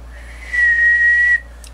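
A single steady whistled tone into a microphone driving a Swinger 205 linear amplifier, held for under a second, close and loud, starting and stopping abruptly against a low hum.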